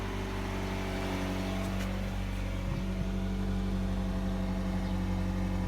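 A car engine idles steadily at 1500 rpm, a low, even hum, close by, with no voices.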